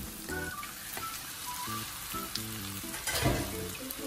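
Ground pork sizzles in a hot pan, a crackling frying hiss with stirring, heard under light background music.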